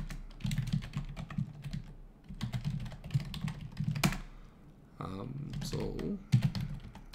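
A computer keyboard is typed on in short bursts of quick clicky keystrokes, close and clear, while someone talks intermittently over and between the typing.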